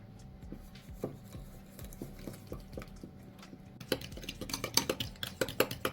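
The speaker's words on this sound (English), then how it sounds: "So I put eggs and sugar and now I'm gonna whisk it up." Eggs and sugar whisked by hand in a bowl, producing rapid, irregular clicking and tapping of the whisk that grows louder and busier toward the end, with no talking.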